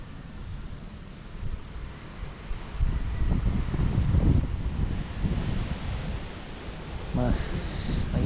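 Gusty wind on a farm rumbles steadily against the microphone, swelling louder in the middle, with muffled voices faintly underneath.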